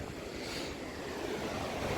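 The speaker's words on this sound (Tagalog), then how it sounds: "Mag-enjoy ka sa panonood ng mga nagsisilakiang alon" Ocean waves rolling onto a beach, a steady broadband wash of surf with wind noise buffeting the microphone, continuous and fairly loud with no distinct breaks.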